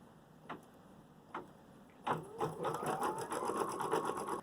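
A computerized embroidery machine stitching a leaf design, starting with two isolated clicks, then settling into rapid, steady mechanical stitching that stays close and moderately quiet.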